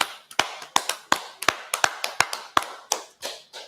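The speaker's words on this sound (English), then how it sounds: "All right, clap it up." A small group claps together in time, sharp distinct hand claps landing in a fairly regular rhythm about three or four per second, close and crisp with quiet gaps between them and no talking.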